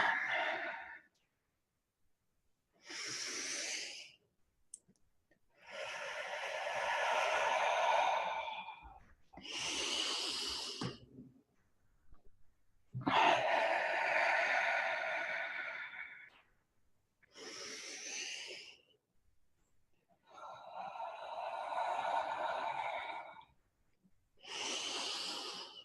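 Slow, deep breaths during a qigong session, long inhales and exhales repeating in steady cycles with short silent pauses between, close and clear with no talking.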